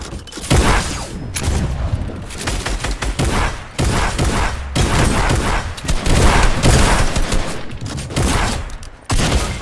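Rapid bursts of Fortnite gunfire crack back and forth in dense volleys, loud and close, with short pauses between flurries.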